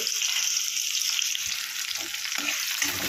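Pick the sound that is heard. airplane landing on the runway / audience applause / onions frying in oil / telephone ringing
onions frying in oil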